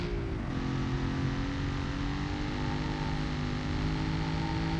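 Ford Mustang Mach 1 with a Coyote engine driving on a highway in the BeamNG driving game, a steady loud engine drone with a slowly rising pitch, continuous and close throughout.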